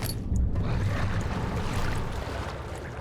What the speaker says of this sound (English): Just a water monster.